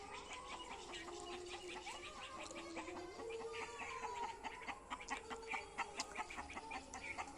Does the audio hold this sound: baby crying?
no